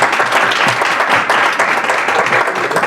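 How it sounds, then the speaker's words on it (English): Audience round of applause at a public meeting in a civic center, loud, dense clapping from a room of people sustained evenly throughout. "And a round of applause for this committee."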